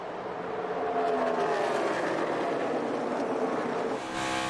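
NASCAR stock cars race at Texas, their engines roaring in a loud, continuous howl as a pack sweeps past, with a pitch shift near the end as another car closes in.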